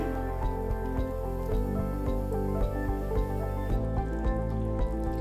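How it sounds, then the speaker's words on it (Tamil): Mutton bone kulambu (curry) simmering toward a boil in a pot, giving a steady soft bubbling with irregular wet pops and plops throughout, moderately close and without any talk. "இது நல்ல ஒரு கொதி வரட்டும்"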